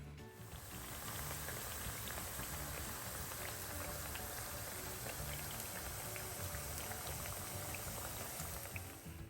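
Breadfruit slices fry in hot oil in a pot, giving a steady, dense sizzle and crackle that runs unbroken throughout with no voices over it.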